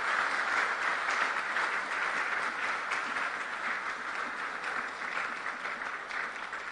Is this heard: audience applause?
yes